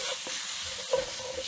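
Spices fry in a hot pan over lowered heat, giving a close, continuous hiss and sizzle while a spoon stirs through them with light scraping strokes.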